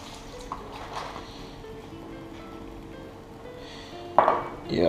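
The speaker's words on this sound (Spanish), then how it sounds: "Y ahora le echamos el vino." White wine splashes into a pan of clams with almonds near the end, a sudden louder pour and sizzle after a stretch of quiet kitchen background and faint utensil clinks.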